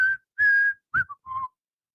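A person whistles a short tune on a morning baseball-themed radio show, with four clear, close notes, one long and sustained, then a quick pair and a final falling note.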